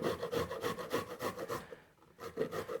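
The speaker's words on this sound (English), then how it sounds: "I have my grater here, and I'm just going to make some broccoli rice first" Broccoli being grated by hand on a box grater to make broccoli rice, a steady series of close, raspy rubbing strokes with a brief pause near the end.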